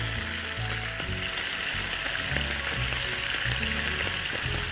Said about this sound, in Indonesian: Kalau suka goreng di minyak yang banyak